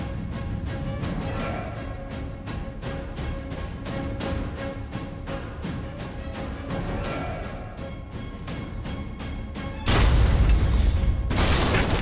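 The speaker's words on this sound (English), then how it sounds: "The sub is rocked as explosions detonate." A rapid series of deep booms and thuds from depth charges exploding around a submarine pounds continuously, ending in a louder, rumbling roar.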